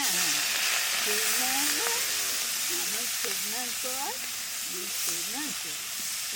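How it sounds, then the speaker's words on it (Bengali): Cumin seeds sizzle in hot oil for tempering, a continuous loud hiss and crackle throughout, with a voice speaking or humming over the frying. "জিরে ফোড়ন দিয়ে দিলাম।"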